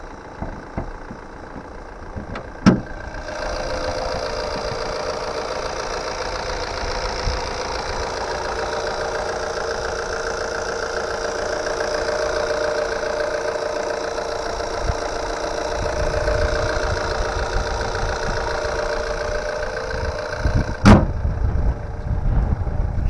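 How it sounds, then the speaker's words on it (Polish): A 2014 Opel Insignia's engine idles steadily and evenly for a long stretch, close by, with a couple of sharp clicks at the start and end. "silnik widać, że niemyty, suchy, pracuje równo"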